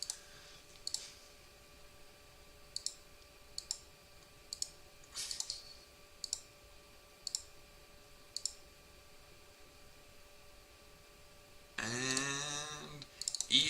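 A computer mouse clicks one at a time at irregular intervals, crisp and close in a quiet room, with a brief louder burst of rustling or noise near the end.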